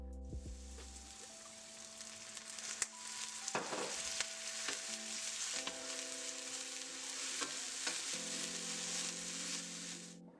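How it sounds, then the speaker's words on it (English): Pork sizzling in a hot pan with dashes of fish sauce for a Thai glass noodle salad, a steady broadband frying hiss throughout with a few brief stirring knocks and clinks, no talking. "add your 2 ounces of pork to it, and before it's fully cooked, add a couple dashes of the fish sauce"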